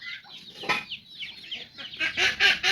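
Chickens and chicks in a village yard cluck and cheep in quick overlapping calls, close and fairly loud, rising into a busier burst of chirping at the end.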